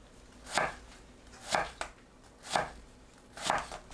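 A knife cuts an apple into thin julienne strips on a board, four distinct crisp chops spaced about a second apart, close and clear with no talking.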